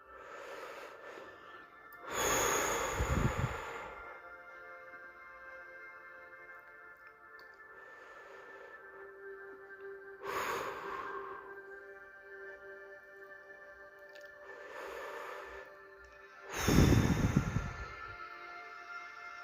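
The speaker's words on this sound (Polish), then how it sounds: "wykonaj kilka głębokich oddechów. Wdech przez nos, wydech przez usta." Slow, deep breaths, four audible inhales and exhales spaced several seconds apart, over a soft, steady ambient drone.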